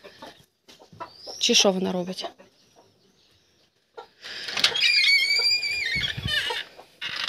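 A brooding hen clucks in two bursts, close and fairly loud, with someone talking over the first burst and a shorter phrase of speech nearby.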